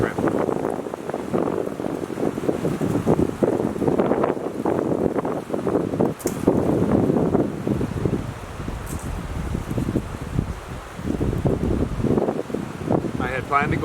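Strong outdoor wind near a lake buffets the microphone with constant roaring gusts and rustling, loud and continuous, while someone talks over it most of the time.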